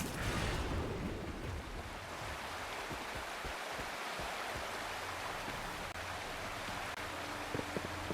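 A waterfall in the video game Wuthering Waves roars as a steady, dense rush of water, constant and close throughout with no talk.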